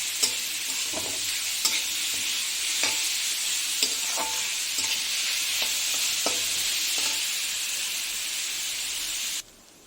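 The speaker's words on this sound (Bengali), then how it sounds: "এগুলো অনেকটাই ভাজা হয়ে গেছে একটু মটরশুঁটিও দিয়ে দিয়েছি এবার ম্যাশ করা এই যে আলু সিদ্ধটা দিয়ে দেবো" Peas and mashed boiled potato fry in a pan with a steady, close sizzle, punctuated by regular scraping and tapping strokes of a stirring spoon, alone without talk.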